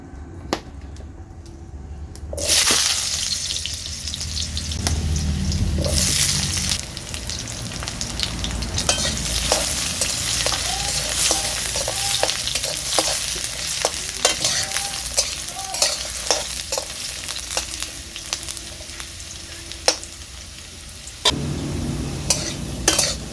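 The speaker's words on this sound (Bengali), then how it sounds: "তেল গরম হয়ে গিয়েছে, এবার এতে আমি আলুগুলো দিয়ে দেব।" Potatoes drop into hot mustard oil in a heated wok and fry with a loud, steady sizzle, broken by repeated scraping and stirring strokes of a spatula against the metal.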